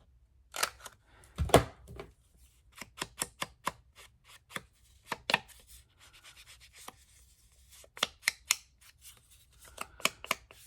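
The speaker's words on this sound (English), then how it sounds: "we are going to just trim a little bit off" Paper being trimmed with scissors for a junk journal folio insert: a run of short, crisp snips and cuts in irregular bursts, close and fairly quiet, with no talking.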